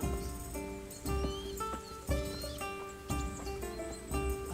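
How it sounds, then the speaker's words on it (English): A horse in Kingdom Come Deliverance clip-clops along at a steady walking rhythm, with regular hoof beats close by over soft outdoor ambience and musical tones, and no one speaks. "Ah, my faithful steed."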